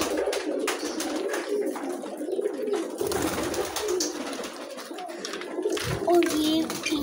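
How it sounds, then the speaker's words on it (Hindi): Caged pigeons and their chicks coo in low, repeated throaty calls close by, with a person talking over them at times. "ये हैं कबूतर बच्चे"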